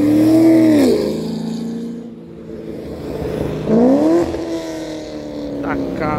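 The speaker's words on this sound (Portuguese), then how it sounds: "Camaro ZL1." A Chevrolet Camaro ZL1 engine rises and falls in two strong revs, pitch sweeping up and dropping, close and loud with an idling rumble between, while someone talks nearby.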